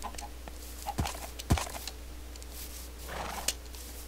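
A black horse in Minecraft gives a few sharp hoof clops and soft snorting sounds, fairly faint against a quiet background, with a voice speaking in places.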